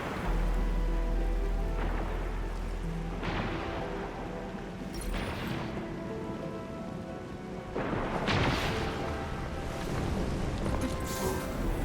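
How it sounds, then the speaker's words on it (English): Heavy rain pours steadily in Arknights: Endfield, a dense continuous hiss with occasional louder gusts and rumbling swells, loud and close with no talk. "It's raining harder. I can't hear anything except for the rain."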